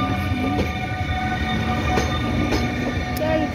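A Newag Griffin locomotive pulls a TLK train out of Toruń station, a steady loud rumble of wheels and engine with faint squeals and clanks, heard close by without talk.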